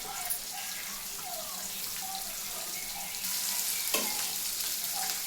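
Onions fry in a pan alongside potato, peas and carrot for sagu, giving a steady crackling sizzle with occasional stirring scrapes that turns slightly louder partway through.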